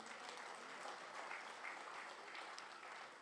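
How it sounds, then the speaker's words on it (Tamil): An audience at a Tamil political speech gives a faint, distant, continuous round of clapping that holds at an even level throughout. "கைதட்டுங்க"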